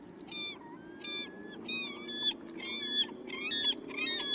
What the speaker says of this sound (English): But the calling of the glaucous-winged gulls, those are one of the sounds that I associate with Katmai